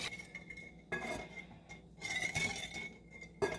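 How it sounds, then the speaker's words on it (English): Whisk clinking and scraping against a bowl while two tablespoons of canola oil are stirred, bright metallic rattles coming in bursts with short pauses between. "This is 2 tablespoons, and then I whisk this around like this."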